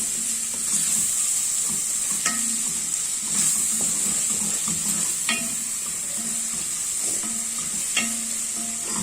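Spices, onion and meat stir-fry in a pan with a steady, bright sizzle, while a spoon scrapes and knocks against the pan at intervals; close and continuous, no talking.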